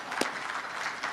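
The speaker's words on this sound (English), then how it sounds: "I think we should give him an applause right there" Brief burst of audience applause at a 2023 Texas Legislature discussion event with the House Speaker, a short steady wash of clapping from a room of listeners.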